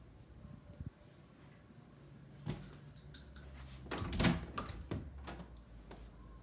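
A door opening for a visitor at home: quiet shuffling, then a run of clunks and latch clicks, with a louder rattle near the middle. The sounds are close by and no one talks.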